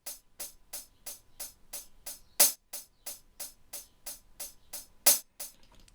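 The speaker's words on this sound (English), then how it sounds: "So you can alternate panning for each delay tab." UVI Relayer delay plugin set to alternate panning between delay taps: a quiet, steady train of short bright hits repeating roughly every third of a second, with two louder accented hits, each echo fading quickly.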